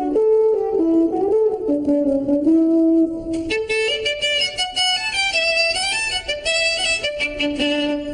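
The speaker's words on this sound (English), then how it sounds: "The French horn sounds like this." A French horn plays a melodic phrase in a children's cartoon, starting with low held notes before brighter, higher tones join; the music is steady and fairly loud with no talking.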